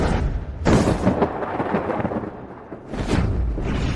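Thunder rumbling as a dramatic sound effect for lightning and divine punishment, with a loud crash at the start and a second burst near the end over a continuous low roll.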